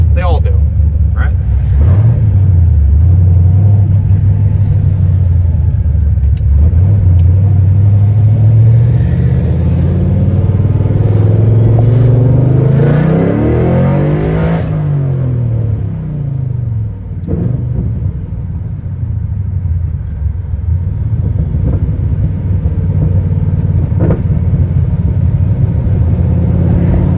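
Inside a 400 whp Pontiac GTO on a drive, the engine rumbles loudly, rising and falling as the car accelerates and eases off, with a deep steady drone throughout and someone talking over it.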